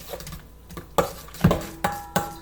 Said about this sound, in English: I'm just gonna mix in the mayonnaise to the mixture and even it out